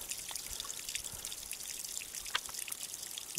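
Water trickles and drips from a mountain spring, the source of the Morava on Králický Sněžník, a faint, steady, close burble with small splashes and no voices.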